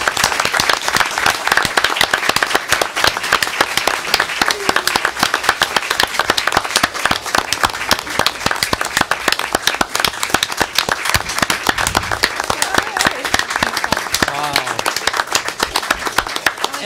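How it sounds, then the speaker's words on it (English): Loud, close clapping fills a school board meeting as the crowd applauds students, dense and continuous for the whole stretch without fading. "Let's give them all a round of applause."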